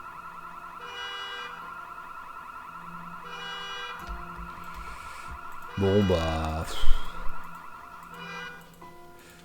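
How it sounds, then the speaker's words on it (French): A car alarm set off inside a video game wails with repeating siren tones through most of the stretch, fairly loud, while someone talks over it and a brief clatter sounds near the middle. "Il y a un couillon qui a déclenché l'alarme."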